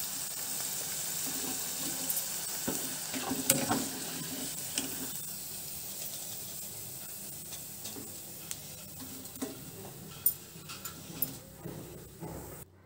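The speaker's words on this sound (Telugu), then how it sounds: "ఈ విధంగా మొత్తం వేయించుకొని పక్కన పెట్టుకోవాలండి." Cauliflower (gobi) pieces frying in oil for gobi manchurian: a soft, steady sizzle with occasional light clinks and stirring scrapes, close and fairly quiet, no talking.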